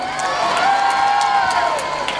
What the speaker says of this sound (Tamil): பலத்த கரகோஷங்களை எழுப்புங்கள்